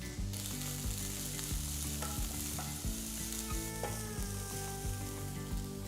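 Thinly sliced shallots, chopped green chilli and curry leaves sizzle in hot oil, a steady frying hiss under a repeating low tonal hum with occasional stirring clinks.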